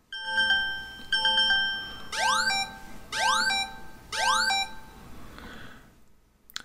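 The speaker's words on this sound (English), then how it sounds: "there is a sound, an alarm sound that will be played, and this is an example of what the sound is going to sound like." A device plays its sample alarm tone: rapid electronic beep bursts give way to three loud repeating rising sweeps, each ringing about a second, then a brief fading tail with no voices.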